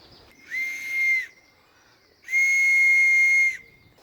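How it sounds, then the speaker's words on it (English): A child's survival whistle on a bushcraft necklace gives two shrill, piercing blasts outdoors, a short one and then a longer steady one, loud and close with a brief pause between them. "She knows to blow a whistle"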